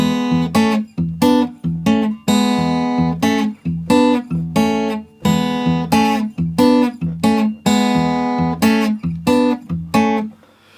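An acoustic guitar in standard tuning plays a fingerstyle blues line, close and loud, with plucked notes and bass strums in a steady, loping rhythm, unaccompanied and without voices.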